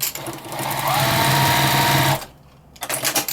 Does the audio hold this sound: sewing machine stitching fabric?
yes